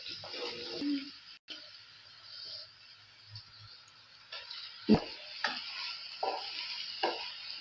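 Chicken pieces frying in a pot for mandi rice, a soft steady sizzle with scattered pops and crackles, a few sharper bursts, fairly close and with no talking.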